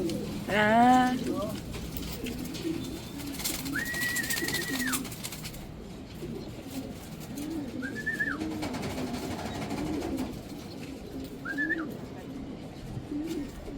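Racing pigeons coo in soft, rolling calls, a few separate bouts spaced apart, heard at a moderate distance over faint outdoor background.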